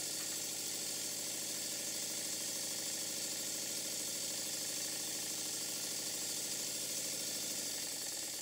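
A Stuart Double 10V model steam engine runs on low-pressure compressed air on a workshop bench, giving a steady, continuous mechanical chuffing and hum with a hissy exhaust, close and even throughout.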